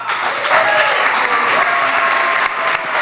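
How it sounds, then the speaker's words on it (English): Audience at a Calgary Elbow candidate debate applauds the candidates, a steady, full round of clapping from a crowd that carries evenly through the moment without voices rising above it. "Let's give them one more round of applause."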